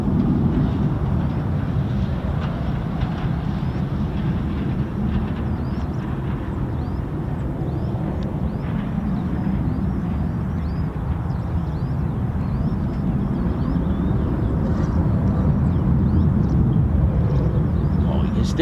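F-15 and F-35 fighter jets departing RAF Lakenheath, a sustained, heavy low roar of jet engines rumbling steadily at a distance, with no break for the whole stretch.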